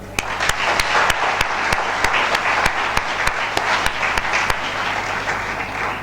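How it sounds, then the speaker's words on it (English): An audience applauds warmly, with a few sharp, evenly spaced claps standing out above the steady patter of many hands. "Let's give applause for them."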